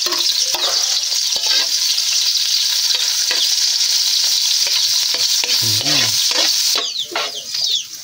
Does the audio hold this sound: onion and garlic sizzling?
yes